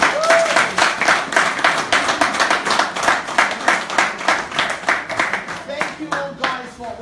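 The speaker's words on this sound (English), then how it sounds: "Give our two guys a round of applause." An audience claps for two guests at a book event, with individual claps distinct and irregular, swelling and thinning over several seconds, and a few voices calling out over it.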